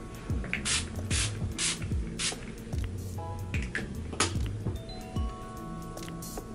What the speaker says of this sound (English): Okay, so I have my Urban Decay setting spray. I'm actually gonna start with this as like a little base.